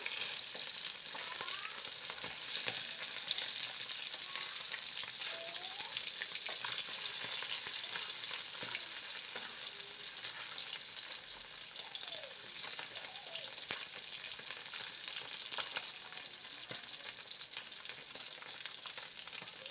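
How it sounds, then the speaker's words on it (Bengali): Fish frying in oil in a pan, one side at a time, a steady crackling sizzle at close range with a few soft pops, constant and alone for the whole stretch. "এখন আমরা এই পিঠটা ভেজে নিচ্ছি"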